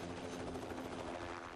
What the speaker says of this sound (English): Helicopters pick up packages of instruments known as spiders from the parking lot at Johnston Ridge Observatory